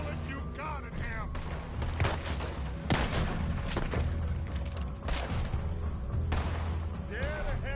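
Scattered gunshots and heavy booms in a Red Dead Redemption 2 firefight, several sharp reports spread across the scene at moderate distance, mixed with shouting voices and background game sound.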